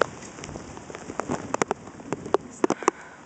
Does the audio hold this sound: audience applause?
no